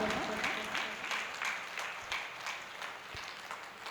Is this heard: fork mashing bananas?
no